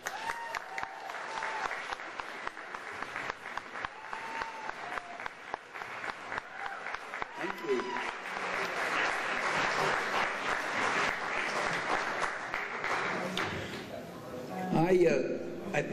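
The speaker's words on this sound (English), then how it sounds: "Give a big, big round of applause to Michael Parenti." At a lecture by Michael Parenti, a crowd claps in sustained applause that builds to a steady roar and carries on for many seconds.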